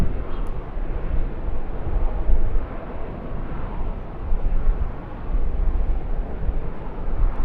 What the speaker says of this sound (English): Qantas A330-300 next to depart on the smaller runway 25